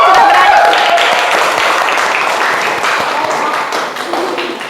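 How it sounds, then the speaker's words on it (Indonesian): Classroom applause for a student discussion group about to present, a loud busy patter of clapping hands with taps and thumps, voices mixed in underneath. "tepuk tangan kelompok 2 yang sudah berani"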